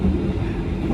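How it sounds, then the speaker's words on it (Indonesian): Wheels of a Kertanegara executive-class train carriage rumble loudly and continuously in a dense, low, noisy roar heard from inside the car. "Rodanya tuh agak berisik sih."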